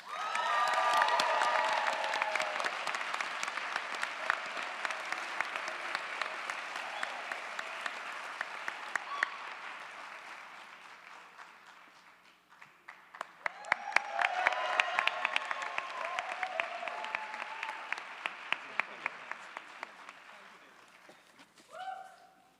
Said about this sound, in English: Give another round of applause for all of our outstanding projects.